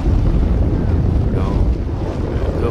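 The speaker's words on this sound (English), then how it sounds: "A little bit of windy off and on." Steady wind buffets the microphone on the Long Beach, California ocean shore in a low continuous rumble, with faint water and boat noise underneath throughout.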